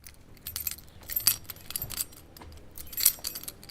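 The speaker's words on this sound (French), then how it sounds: "Elle agite ses clés devant nous." An old woman shakes a bunch of keys, giving bursts of bright metallic jangling with a few sharper clinks, close and fairly clear over a low background rumble.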